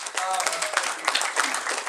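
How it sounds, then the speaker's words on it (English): Scattered applause from the crowd at a furry convention's opening ceremony, uneven bursts of claps with a voice talking over them part of the time. "So a big round of applause to Rasha and Lyle here."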